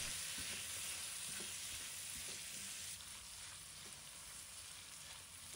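Dried squid, dried shrimp and shiitake mushrooms stir-fry in a wok with a faint, even sizzle and soft scraping stirs under a constant hiss.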